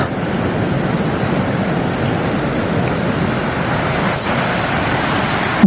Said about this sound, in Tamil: தண்ணி அப்படியே மண்ணு கலரில் போயிட்டு இருக்குங்க பாரு.